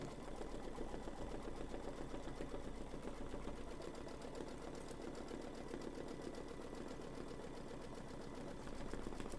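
An embroidery machine with a 75/11 needle stitching through cardstock, running steadily with a fast continuous mechanical chatter throughout.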